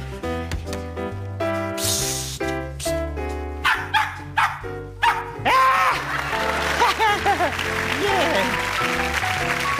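A dog in a comedy stage act barks repeatedly in quick, loud, close bursts while music plays underneath and applause rises toward the end.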